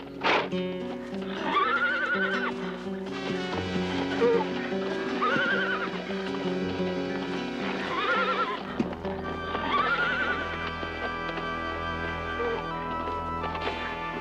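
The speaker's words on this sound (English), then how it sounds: "He has a horse brought to him, knowing that to them, this is a beast of the most fearsome proportion." A horse neighs repeatedly in long, loud whinnies over steady clip-clopping hooves, with another burst of neighing later on.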